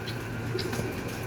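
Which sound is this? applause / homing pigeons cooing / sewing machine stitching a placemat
homing pigeons cooing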